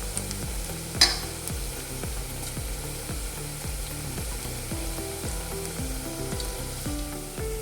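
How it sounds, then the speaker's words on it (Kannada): Cassava pakoda batter deep frying in hot oil, a dense bubbling sizzle with a loud repeating motorized whine rising and falling underneath, and a single sharp clink near the start. "ಇದು ಸ್ವಲ್ಪ ಕೆಂಪಾಗೋ ತನಕ ಫ್ರೈ ಮಾಡಬೇಕು."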